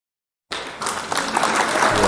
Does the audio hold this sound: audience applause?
yes